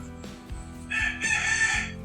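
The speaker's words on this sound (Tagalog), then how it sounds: "Ayun, manok." A rooster crows nearby, loud and drawn out, its call rising and falling clearly with little else around it.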